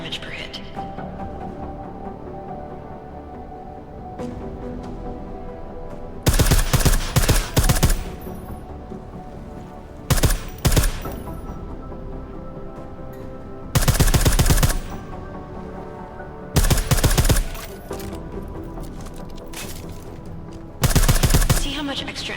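Silenced gunfire in Deus Ex: Mankind Divided comes in five short rapid bursts spread evenly apart, sharp and close, with a quieter game ambience between them and no talking.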